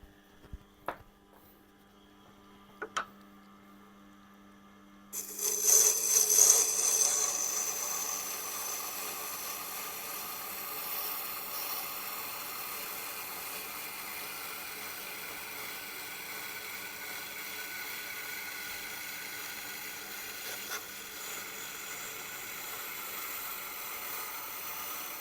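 A grinder takes damage off a Wüsthof kitchen knife blade, starting after a few faint knocks and then holding a loud, steady hissing whine that surges at first and continues unbroken while pressed hard.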